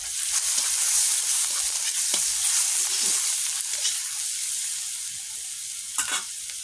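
Onion and red chilli powder frying in a pan give a steady hiss and sizzle, with occasional scraping stirs that are loudest early on and gradually soften.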